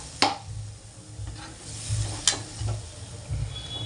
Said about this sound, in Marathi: तर त्यात आपण हे मिक्सर जे आहे त्या मिक्सरला जे मसाला असतो त्यातच तेच पाणी धुवून आपण याच्यात टाकणार आहे